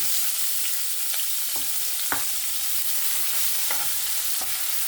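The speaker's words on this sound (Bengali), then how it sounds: "আর পেঁয়াজটাকে এখানে আমি একদম লাল লাল করে ভেজে নেব" Chopped onion frying in hot oil with whole spices, giving a steady, loud sizzle throughout, broken by a few scraping knocks of a spoon stirring the pan, with no voices.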